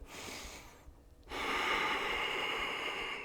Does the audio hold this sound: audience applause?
no